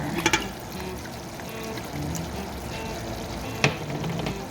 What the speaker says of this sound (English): I'm just going to add in a splash of balsamic and Worcestershire.